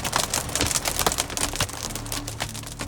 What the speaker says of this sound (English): we listened to the hail absolutely pummel our fiberglass RV and our truck